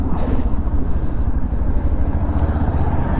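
Yamaha FZ-X motorcycle on the move, a loud, steady engine drone mixed with wind rumble, continuous and close throughout with no talking.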